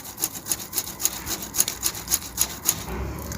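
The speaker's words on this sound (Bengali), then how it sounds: "এবার আলুটা গ্রেট করে নেব" A potato is grated in quick regular rasping strokes, about a dozen evenly spaced scrapes, close and fairly quiet, with no voices.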